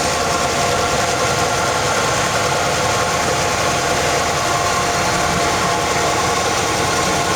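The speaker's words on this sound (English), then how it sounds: "The 350 Olds engine." A 350 Oldsmobile V8 engine idles close by with a steady, rough, rumbling drone that holds constant throughout, with no one talking.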